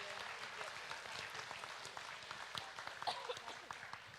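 Applause from the crowd at a state fair swine show, a steady wash of clapping through the whole stretch with a few louder claps near the end, heard from some distance in a large ring.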